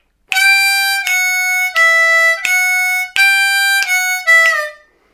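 Draw and blow notes on a D harmonica, a lick in steady quarter-note movement: six or seven clear reedy tones played alone and up close, the last two clipped and quick.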